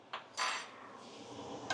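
A spoon scrapes and clinks against a metal cooking pot as biryani masala is stirred, a few sharp close knocks with quieter scraping between them and no talking.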